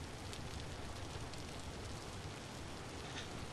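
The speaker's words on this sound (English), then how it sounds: "Ugh, that rain noise non-stop." Rain falls in the modded survival game Vintage Story as a constant, dense hiss, steady and unbroken with faint scattered patters.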